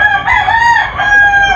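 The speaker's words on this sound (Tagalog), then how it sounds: "Ayan po yung broodcock niya." A pure blue face broodcock rooster gives one loud, close crow lasting more than a second, with a rising opening and a long held middle that then tails off.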